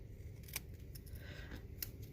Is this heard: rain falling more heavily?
no